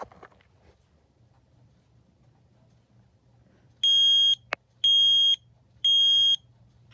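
A modern smoke alarm sounds after its test button is pressed, giving three loud, piercing, sustained electronic beeps in a regular pattern, with a short click between the first two, against a quiet room.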